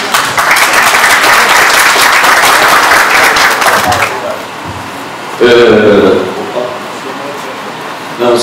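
An audience at a talk applauds loudly and steadily for about four seconds, then the clapping stops. After it a single voice speaks, a short burst of noise cuts in, and the room goes quieter.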